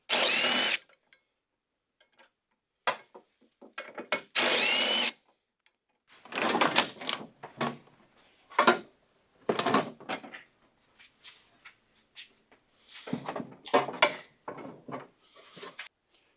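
A passenger fender comes off a 1999-2009 Chevy GMT-800 Silverado: a string of short clunks, rattles and scraping bursts of metal and plastic, close by and irregular, with quiet gaps between them.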